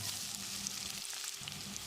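Shallots sizzle steadily in hot oil in a pan for pepper chicken, a close, constant frying hiss with faint stirring underneath.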